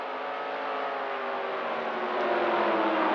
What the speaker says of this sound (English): That's just a lap car there blasting by the outside